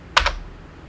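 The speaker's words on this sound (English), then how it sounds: "you're just going to hit the Enter key on the keyboard" A single Enter key press on a computer keyboard while running a Windows upgrade install, a quick double click of the keystroke, close and clear, with nothing else heard afterward.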